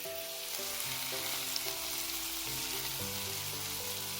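Bread skewers sizzling steadily in a frying pan, brushed with a kankankan, vinegar and oil baste; a continuous close frying hiss with a few soft clinks from the cooking, no voices.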